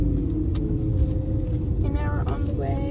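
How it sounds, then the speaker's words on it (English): A loud car turns over and its engine rumbles steadily, with a few rising revs near the end, close and constant throughout. "let me start this car up because it's gonna be loud"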